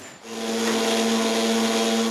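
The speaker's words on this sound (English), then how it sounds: "It's time to give the drawers their final sanding." A power sander works over a wooden dresser drawer, kicking in after a brief quiet moment and then holding a loud, steady whine with a buzzing hum close by.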